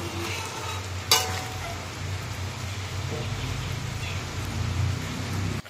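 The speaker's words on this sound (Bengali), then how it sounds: "এখানে দেখো এখন তো তরকারিটা ফুটছে।" A potato, pointed gourd and soybean curry simmers in a pot after water is added, a soft, steady bubbling and hiss with a brief clatter early on, heard close at a low level.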